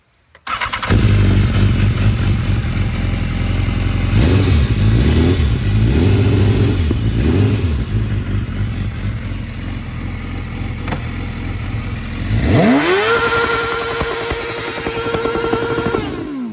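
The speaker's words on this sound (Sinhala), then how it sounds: "අපි ක්ලච් එක අල්ලගෙන අපි acceleration එක දුන්නොත් අපිට අර ශබ්දේ බලා ගන්න පුළුවන්" A 2016 BMW S1000RR superbike engine fires up and idles loudly close by, with the clutch held as the throttle is blipped in several quick revs, then swept up into one long rising rev before settling back.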